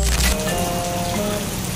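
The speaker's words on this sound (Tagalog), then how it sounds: "kasi umuulan pa mga birds, hindi pa humuhupa yung ulan" Rain falls steadily in Aroroy during a storm, a loud, dense hiss of drops striking surfaces with a few sharper knocks near the start and no talking.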